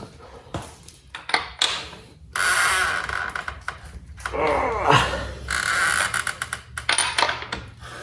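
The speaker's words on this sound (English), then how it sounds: "this is where I'll take the 32mm socket and the breaker bar to loosen the actual axle nut" A breaker bar with a 32mm socket loosens the axle nut on a 2013 Honda CBR1000RR: metallic clinks and ratcheting clicks come up close, then a strained creak and a sharp release, followed by more tool rattles.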